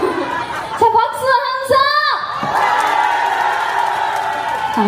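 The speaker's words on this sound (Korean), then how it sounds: "자, 박수" A festival crowd at an outdoor congratulatory concert during the 21st Yeongyang Wild Vegetable Festival cheers loudly with whoops and applause. Rising shouted calls give way to a steady, broad wall of crowd noise.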